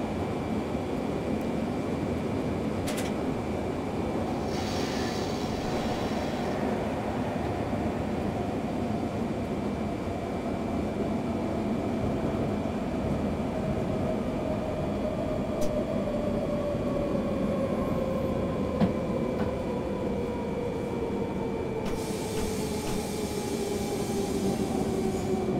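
An S-Bahn commuter train on the S6 line to Tutzing runs steadily with a constant broad rumble and a slowly falling traction whine, with occasional brief hiss bursts and no talk.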